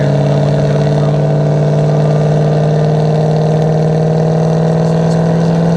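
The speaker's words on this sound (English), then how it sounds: "I don't know how much you can hear when I'm under heavy throttle." A cammed, pulley-swapped Chevrolet Camaro ZL1 under heavy throttle, a loud, steady, deep engine drone with a strong low hum recorded from inside the car, continuous and near-clipping throughout.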